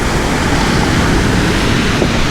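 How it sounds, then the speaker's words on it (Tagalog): Strong wind buffets a gravel-bike camping spot in Japan, a loud, steady roar with no break and no voices. "Malakas yung hangin dito."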